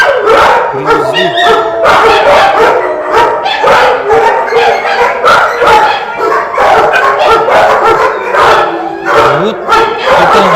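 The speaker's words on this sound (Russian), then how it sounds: "Вот это недавно пойманные собаки, наверное, вчера-позавчера. Щенки." Many dogs, including puppies, bark, yip and howl together in a newly opened dog shelter in Yakutsk, a loud, continuous chorus filling the space.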